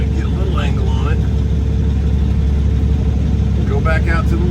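A split-axle flatbed truck's engine rumbles loud and steady as it backs up near gravel mounds. Someone talks over it at the start and again at the end.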